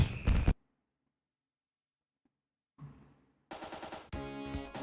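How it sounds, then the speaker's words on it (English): Fireworks in the Sonic Superstars video game: a loud crackling burst at the start, a long silence, then a fainter pop and two dense, loud crackling volleys at the end. "Oh, this one's a firework."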